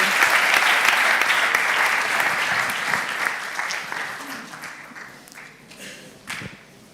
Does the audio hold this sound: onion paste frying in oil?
no